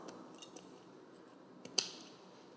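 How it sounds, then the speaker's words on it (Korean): Scissors cut through hard, dry glass noodles in a kitchen, giving one crisp snip near the end of a quiet stretch with a few fainter clicks before it. "가위가 있으면 가위를 이용해서"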